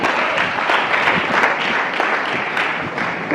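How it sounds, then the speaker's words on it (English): Applause from a crowd at a Young Professionals Forum chapter launch, dense steady clapping held at an even level throughout, fairly close and loud with no speech over it. "a big round of applause for our women"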